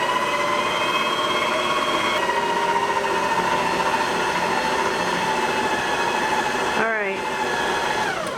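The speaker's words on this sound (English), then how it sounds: "I can hear that motor starting to strain a little bit as the dough was starting to come together" A VIVOHOME 6-quart stand mixer runs loud and steady while mixing cookie dough, its motor whine holding a constant drone with a brief pitch sweep near the end.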